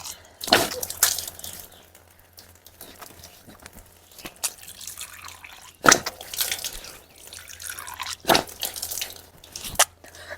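Water splashes and drips in scattered bursts as a face is washed by hand during wudu, close and moderately loud against a quiet background.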